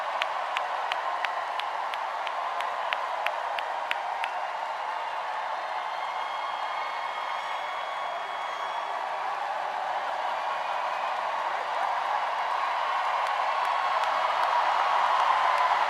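Large campaign rally crowd in Philadelphia applauding and cheering, a steady distant wash of clapping and crowd noise that holds evenly and builds slightly toward the end.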